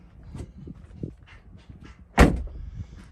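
Door of a Voodoo Blue Toyota 4Runner TRD Pro, a low-mileage SUV, opening with one loud, close clunk partway through, over faint background rumble.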